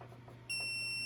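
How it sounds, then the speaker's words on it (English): A buzzer on an ultrasonic distance sensor setup starts halfway through and holds as one steady, piercing electronic tone after a quiet lead-in with a low hum underneath. "the buzzer"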